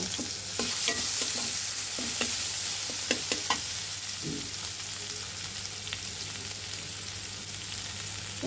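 Onions hit hot oil left over from frying river chanda fish and crackle loudly, while a spatula scrapes and stirs in uneven strokes over the sizzle.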